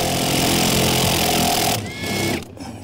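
A power tool whirs continuously as it backs a bolt out of a Kia Sorento engine, then cuts off abruptly into a short fading mechanical whine.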